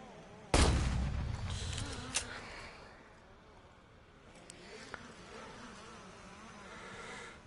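A single sharp gunshot in the VR game Immortal Legacy: The Jade Cypher, loud and sudden, then a fading tail and a few faint clicks and rustles afterward.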